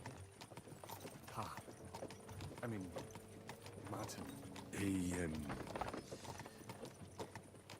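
Horses trotting in the video game Kingdom Come: Deliverance II, with rhythmic hoof clip-clops and creaking cart mechanisms close by, under intermittent speech.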